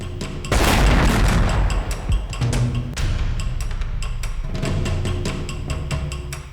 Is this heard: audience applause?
no